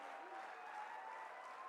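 An audience applauds steadily at a youth festival stage event in Chandigarh. The clapping is continuous and even, faint and somewhat distant, with no break.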